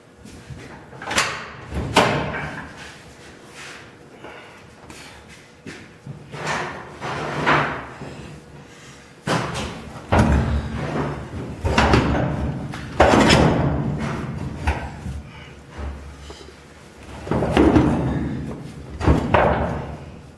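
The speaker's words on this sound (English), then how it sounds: "I'll just go open the door and move it back." A 1959 GMC Fleetside truck cab door is worked open amid repeated metallic thumps, clunks and rattles, irregular knocks and scraping spread over twenty seconds, close and without talk.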